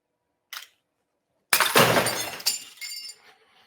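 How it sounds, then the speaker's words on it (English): Drinking glasses smashed during a high-speed photography shoot: a short click, a pause, then a loud, bright shattering crash with glass fragments tinkling and clattering for about two seconds, no talking. "as soon as I hear the shutter, the aperture to open, I smash the glasses."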